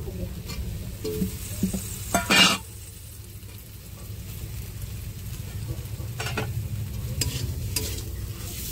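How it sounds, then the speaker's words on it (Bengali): Fried potatoes are stirred into sizzling spice masala in a pan for a tengra fish curry, with scraping stirs and a louder clattering burst over a continuous frying crackle. "ভালো করে আরও ভালো করে মশলাটাকে আরও কিছুক্ষণ কষিয়ে নেব।"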